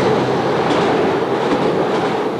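Loud, steady rumble inside a moving train compartment, a continuous dense roar of rolling wheels and carriage noise with no talking.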